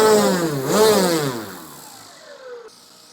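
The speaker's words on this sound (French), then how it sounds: "la belle hélice carbone Falcon 24/10 va tourner à pleine vitesse" An electric motor on an RC plane, an Extreme Flight Extra 300, spins a carbon Falcon 24x10 propeller at full speed. It gives a loud, close whine that dips and rises, then winds down and fades.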